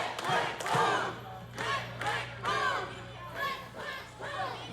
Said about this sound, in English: This crowd chanting click, click, boom